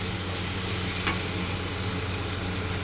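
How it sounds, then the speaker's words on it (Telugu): Coriander and spices frying in a pan for mutton curry, a steady broadband sizzle with faint stirring scrapes, one brief clink near the middle, no voices. "వీటినన్నిటిని బాగా వేయించుకోవాలి ఒక 2 మినిట్స్"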